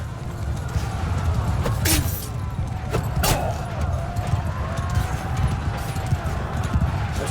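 Horse hooves pound in continuous galloping clip-clop in the medieval battle game Mount & Blade II Bannerlord, close and loud over a low rumbling din, with a couple of sharp metallic clashes cutting through.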